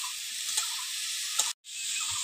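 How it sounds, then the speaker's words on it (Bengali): Bottle gourd sautéing in a pan gives a steady, bright sizzle with a couple of soft stirring bumps, then a brief cutout of silence before the frying hiss resumes. "লাউটা একটু হালকা কষিয়ে নেব।"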